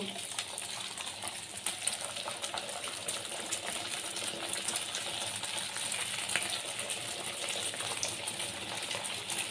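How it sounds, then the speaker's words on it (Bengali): Khaja pastries frying in hot oil over a low flame, dropped in a few at a time, giving a steady dense sizzle and crackle throughout, close and even, with no talking. "দিয়ে আমি একটা একটা করে খাজা তেলের মধ্যে ছেড়ে দেব"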